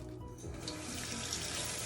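Warm tap water runs steadily from a faucet into a sink while a tie-dyed shirt is rinsed, a constant close splashing hiss throughout with no talking.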